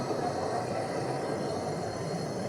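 Train running in the Roblox video game, a steady, even rumble with a continuous hiss and drone, close and unchanging throughout with no talk.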